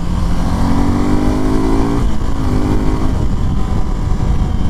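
A Suzuki Gixxer 250 BS6 motorcycle engine revs loudly and continuously, its tone climbing and holding as the throttle is worked, with steady wind and road noise underneath.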